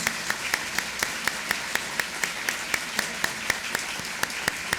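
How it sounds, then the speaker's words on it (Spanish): Audience applause for actors at a Colombian broadcast anniversary event, with sharp, evenly spaced claps standing out above a steady wash of clapping throughout. "vamos a darle entre todos un inmenso, inmenso aplauso a estos actores maravillosos"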